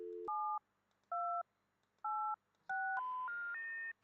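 Telephone keypad tones in the game Thimbleweed Park: four distinct two-tone beeps spaced about half a second apart, then a rising three-step tone sequence, loud and clean with no talk.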